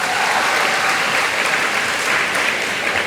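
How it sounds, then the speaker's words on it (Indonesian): Students in a school hall at MAN 1 Jepara applaud a classmate who answered a question, a loud, dense, even roar of many hands clapping together, sustained throughout with no voices on top. "Tepuk tangan untuk temanmu."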